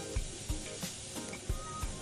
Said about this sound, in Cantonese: 首先爆香啲豆豉同埋蒜頭